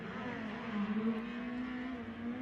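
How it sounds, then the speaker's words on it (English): A midget race car with an Ed Pink-built Toyota engine runs on a speedway track, its engine holding a loud, steady high-pitched drone that swells slightly mid-pass, with no talk over it. "Ed Pink Toyota underneath the hood."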